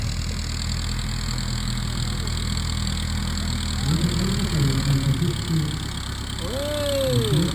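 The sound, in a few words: aircraft engine as plane taxis at air show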